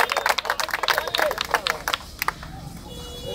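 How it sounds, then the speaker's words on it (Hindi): A group of people clap in quick, uneven bursts up close for about two seconds before the claps thin out and stop, leaving faint background noise. "ताली बजा दो भाई सारे के सारे यार"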